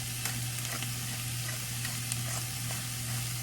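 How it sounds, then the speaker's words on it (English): Zucchini and other vegetables sautéing in a pan, a continuous close sizzle with scattered crackles and pops over a low steady hum, no talking. "give them a nice little saute"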